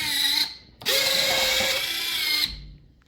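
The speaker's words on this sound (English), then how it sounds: "I will go back and tighten the other two screws now" A power tool drives screws into the landing gear of an E-Flite Viper 70mm RC jet, two loud sustained whirring bursts close up separated by a short pause, with no talking.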